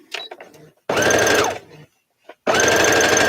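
A sewing machine stitches bias binding, fed by a large serger spool of black thread, in two loud close bursts of rapid mechanical chatter with a short pause and some quieter handling sounds between them.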